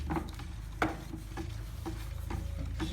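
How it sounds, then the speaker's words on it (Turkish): Wall paint being stirred by hand for about five minutes, thinned with ten percent water; a steady, quiet churning with soft repeated strokes and faint knocks against the container. "Bir 5 dakika karıştırın böyle."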